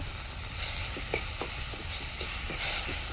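Onions and tomato frying in a pan with cumin and curry leaves, a steady soft sizzle and hiss throughout, with a few light stirring scrapes and taps breaking through the continuous crackle.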